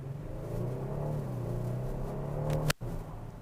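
A 2022 Kia Stinger GT1 liftback sedan's engine drones and climbs under full-throttle acceleration, a steady throaty hum from inside the cabin, interrupted by a sharp click near the end.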